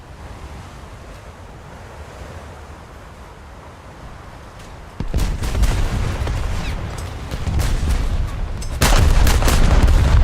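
Warship gun turrets fire in a naval video game, heavy broadband booms landing around the midpoint and again near the end over a steady bed of sea and wind noise.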